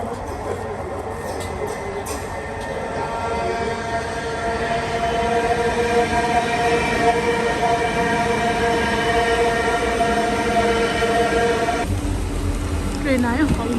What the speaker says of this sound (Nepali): ट्रेन आयो। अब म पनि जान्छु